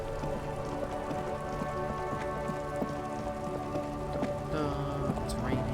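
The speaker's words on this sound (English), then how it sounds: "It's raining, so don't worry about it." Steady rain patters throughout in the video game Disco Elysium, an even, continuous wash of droplets with soft sustained musical tones underneath.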